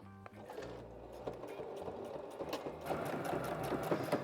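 A sewing machine stitches binding onto a fabric packing cube, its needle running in a steady, rapid mechanical patter that starts softly and grows busier and a little louder, with no talking.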